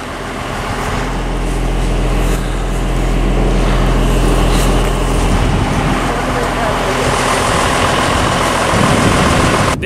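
A skid loader engine idles steadily at close range on a farm by a corn crib, a continuous low rumble with a broad mechanical roar throughout, and a person speaks briefly over it.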